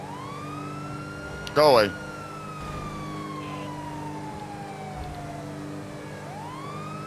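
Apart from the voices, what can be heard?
police car siren in the video game GTA 5 Online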